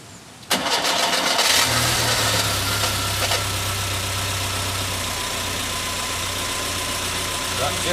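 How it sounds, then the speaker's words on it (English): A Skoda Favorit car engine cranks and catches, then settles into a steady, loud idle that runs to the end, with a brief click before it starts. "we now start the engine just to get it circulating, because the oil filter will need filling up."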